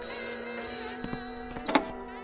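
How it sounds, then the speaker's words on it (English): A telephone bell rings in an old television drama, a short burst of ringing heard alone over a steady background hum. "Or the telephone ringing."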